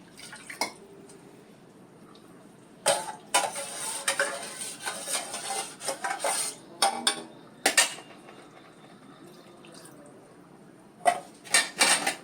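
A spoon stirs cooked amaranth greens in a pan, producing bursts of wet scraping and clinking against the metal with quiet pauses between strokes, close and clear.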